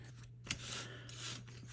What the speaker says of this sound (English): now that we've chopped up that battery